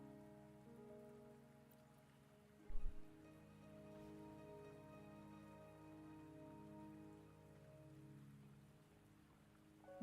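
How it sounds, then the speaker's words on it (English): Steady rainfall patters continuously in the video game Wuthering Waves, a soft even hiss layered under sustained musical tones, with one brief thump partway through. "Don't worry, the rain won't last much longer."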